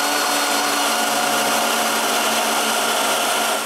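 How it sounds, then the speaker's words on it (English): A drill press boring a series of holes in wood for a wooden bandsaw build, giving a loud, steady motor whine with a cutting rasp that runs continuously and stops abruptly at the end. "I make a series of holes on the drill press"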